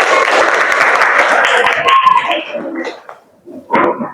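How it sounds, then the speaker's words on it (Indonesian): A class claps together at the end of a lesson in a dense, steady patter that thins out, then a short final burst of clapping near the end. "Tepuk tangan."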